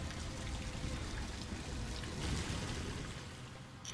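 Water pouring to refill a pool in the Ratchet & Clank game, a dense, steady rushing splash of cascading water that fills the whole stretch at an even level.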